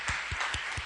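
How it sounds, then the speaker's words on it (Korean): A church congregation applauds to glorify God during a worship service, the clapping steady and diffuse with a few low thumps standing out, filling the room for about a second. "우리 다시 한번 살아계신 하나님께 영광의 박수 올려드립니다."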